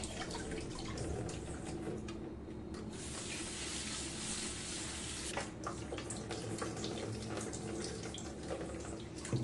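Rice-washing water poured into a tub holding an iron kadhai being seasoned, a steady splashing, gurgling pour close by that runs continuously for several seconds with a brief softer dip partway through.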